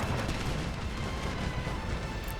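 Mortar fire on an 18th-century battlefield in the strategy game Empire Total War, a low, rumbling, continuous wash of distant detonations, faint and with no talk.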